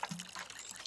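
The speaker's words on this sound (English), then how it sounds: "And we're going to water you." Water pours into a potted plant's soil in Botany Manor, a short soft splash and trickle lasting under a second, close and quiet, with no voices.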